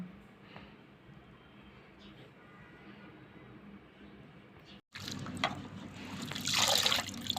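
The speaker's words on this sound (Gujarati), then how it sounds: "આ રીતે આપણે ત્રણથી ચાર પાણીએ વેફરને સાફ કરવાની છે" Potato slices cut for checks-style wafers are rinsed in water, with quiet dribbling at first and then louder sloshing and splashing close by in the second half.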